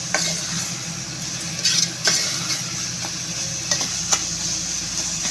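Turmeric is stirred into egg gravy in a pan, a continuous loud sizzle broken by a few sharp spoon scrapes and clinks against the metal, with no one speaking.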